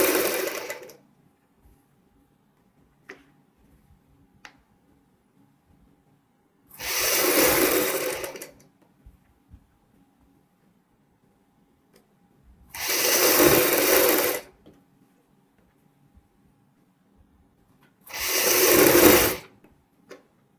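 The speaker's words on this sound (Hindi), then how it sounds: "इस साइड का भी जो मार्जिन होगा अंदर की साइड हमने अच्छी तरीके से डाल लिया है और ऊपर की साइड हम सिलाई लगा रहे हैं।" A sewing machine stitching the collar neck of a kurti for a Punjabi suit, running in three loud bursts of about two seconds each with quiet gaps of faint handling noise between them, close and alone.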